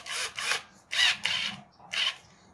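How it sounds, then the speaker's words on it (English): A power drill is used to roll up boxing hand wraps, giving four short whirring bursts with brief pauses between them, close and fairly quiet. "Take your drill, stick it in there,"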